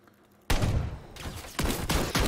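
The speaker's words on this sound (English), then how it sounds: "I'm being shot, being sniped" Sniper gunfire in a video game: a short lull, then three loud, close shots at roughly one-second intervals, each cracking sharply and trailing into a brief rumble.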